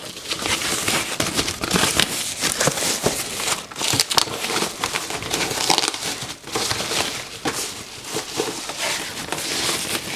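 Protective plastic film crinkles and crackles continuously for several seconds as it is peeled from the sides of an Xbox One S console, close and dense with sharp snaps.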